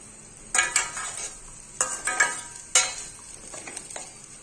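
Khoa is sautéed in ghee in a metal pan, with several sharp scrapes and clinks of a spoon stirring against the pan over a faint, quiet sizzle.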